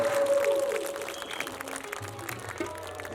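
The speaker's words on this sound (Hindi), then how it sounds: "जोरदार तालियां, जोरदार तालियां।" Audience at a Ramleela stage performance clapping steadily, a continuous patter of applause at moderate level with a faint tonal note and low background sounds underneath.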